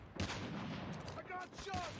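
Gunfire from the Call of Duty Mobile video game rattles in quick bursts with overlapping shots, fairly faint, mixed with game voice callouts.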